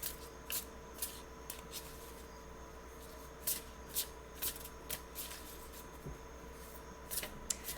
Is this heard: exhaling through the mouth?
no